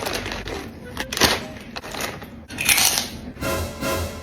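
Someone eats crunchy spicy fried squid, with sharp, close crunching bites breaking up lively talking nearby.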